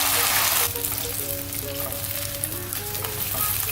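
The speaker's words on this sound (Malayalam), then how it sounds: "ഇനി നമുക്കിതിലേക്ക് കാച്ചിയ പാലൊഴിച്ചു കൊടുക്കാം" Boiled milk pours into a pan of fried dry fruits for an onion payasam. A loud sizzling hiss at the start quickly settles to a softer simmer with faint stirring sounds.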